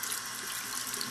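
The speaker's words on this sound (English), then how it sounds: "So now we'll rinse the brush." Steady running tap water pours into a sink while a makeup brush is rinsed under the stream, a continuous close hiss with no talking.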